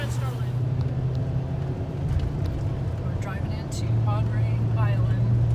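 Car driving over a big bridge toward South Padre Island, Texas, a steady low engine and road hum throughout while people talk inside.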